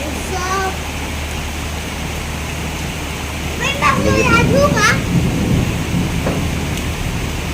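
Heavy monsoon rain pours steadily, the first downpour of the season flooding a dug pit and washing away soil, a continuous loud hiss with children's voices calling out over it.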